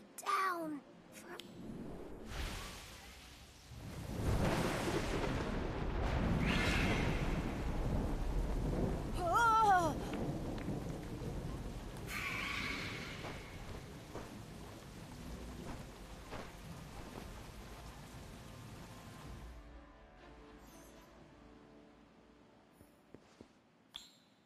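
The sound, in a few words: thunderstorm with rain in video game Harry Potter Magic Awakened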